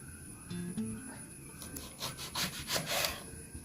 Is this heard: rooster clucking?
no